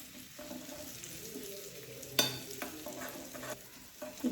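Mustard seeds, crushed chili and curry leaves fry in hot oil in a pan, a steady sizzle with stirring scrapes and a sharp crackle burst near the middle, close and moderately loud, with no voices.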